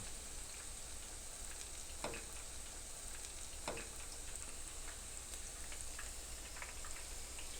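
Zucchini flowers coated in batter deep-fry in vegetable oil, giving a steady, fairly quiet sizzle with a couple of brief sharper pops, continuous for several seconds with no voices.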